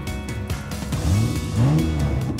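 Toy-style race car engines revving and whining up in pitch, loud and close, with rising swoops of engine tone and no voices.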